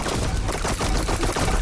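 Dense, continuous automatic weapon fire in the video game Neon White, rapid overlapping shots forming a loud, unbroken rattling barrage with no pauses.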